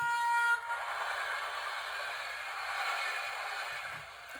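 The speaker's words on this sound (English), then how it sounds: "T is for train." A children's transport sound book plays a train sound: a short horn or whistle note opens, followed by a steady rushing, rattling rail noise at moderate volume, with no voices.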